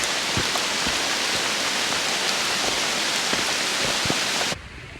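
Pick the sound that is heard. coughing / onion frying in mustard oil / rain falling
rain falling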